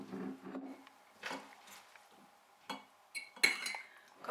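A spoon scrapes and clinks against a bowl and a glass jar as sauerkraut with cranberries is moved into the jar, with several separate metallic taps and wet scoops close by, growing brighter near the end.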